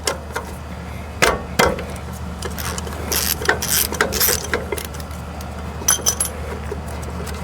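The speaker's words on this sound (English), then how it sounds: "So I'm gonna undo these two bolts, and after that the caliper bracket is gonna come out." A hand ratchet clicks while loosening the 19 mm caliper bracket bolts on a Nissan Xterra's rear brake, with irregular bursts of metallic ratcheting and clinks of tools close by.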